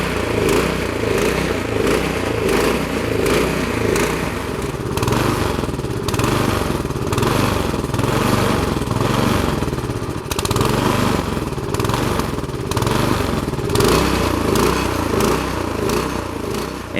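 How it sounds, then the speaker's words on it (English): The engine of a Troy Bilt Storm 2410 snowblower runs loud and close, bucking and surging with a rough, uneven mechanical chug that rises and falls throughout. "You can see in these clips that it's got a real problem with bucking and surging."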